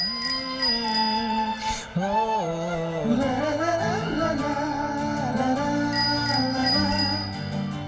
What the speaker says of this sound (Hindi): मतलब कि साइकिल की घंटी चेक कर रही हूँ।